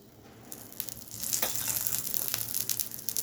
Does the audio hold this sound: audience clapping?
no